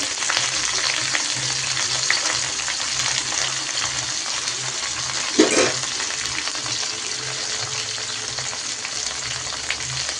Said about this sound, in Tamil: இப்போ நல்லா எண்ணெய் கொதிக்குது. இப்போ இந்த இதில் பார்த்திங்கன்னா கொஞ்சம் கொஞ்சமாக காலிஃப்ளவரை சேர்த்து